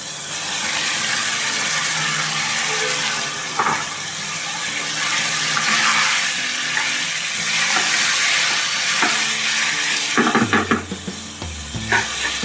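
Liver masala with chopped tomatoes and green chillies fries steadily in a pan, a bright continuous sizzle with a few clinks and stirring scrapes near the end.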